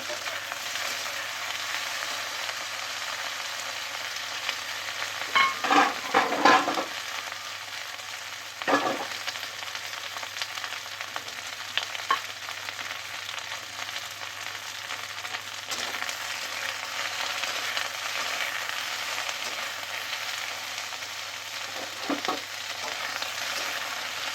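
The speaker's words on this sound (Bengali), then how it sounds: "ঢ্যাঁড়সগুলো প্রথমে সরষের তেল দিয়েছি, তারপরে তেলটা গরম হওয়ার পর ঢ্যাঁড়স দিয়েছি, দিয়ে ঢ্যাঁড়সগুলো ভালো করে ভেজে নেব।" Okra fries in hot mustard oil with a steady, moderately loud sizzle throughout, broken by a few louder bursts and scrapes as it is stirred in the pan, with no talking.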